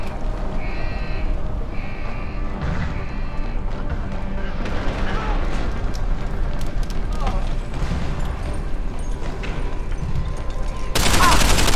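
Gunfire in Deus Ex: Human Revolution, played on Xbox Series S through backward compatibility. Scattered shots and short bursts crack over a steady game soundscape, thickening toward the end.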